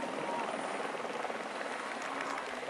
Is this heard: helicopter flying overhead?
yes